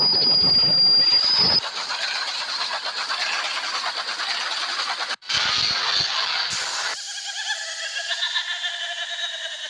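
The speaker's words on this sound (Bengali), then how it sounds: "দেখো ওই ড্রপ রাইডের আওয়াজ অনেক বেশি ছিল" In a carnival-themed horror video game, a drop ride rumbles loudly and steadily with a high metallic squeal at the start. It cuts out briefly, then surges back with a mechanical whirr and ringing tones.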